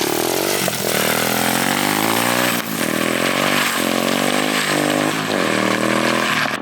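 A drift trike built half ATV, half dirt bike runs its engine close by, a loud, steady buzzing drone that climbs and falls in pitch with repeated throttle revs, heard alone.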